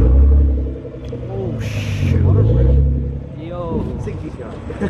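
A car pulls up at a rainy gathering of car enthusiasts, its low engine rumble swelling and easing nearby while people talk over it and a brief hiss of tires on wet pavement cuts through.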